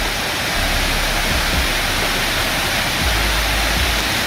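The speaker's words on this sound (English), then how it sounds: "The water goes down that hole into the cave below" A waterfall at Natural Bridge on the Gold Coast pours down a hole into a glowworm cave below, a loud, unbroken roar of rushing water with no voices.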